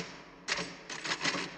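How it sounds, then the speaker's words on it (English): Quick bursts of clicking keystrokes on a keyboard, close and fairly crisp, coming in two or three short flurries with no voices. "you hear me typing."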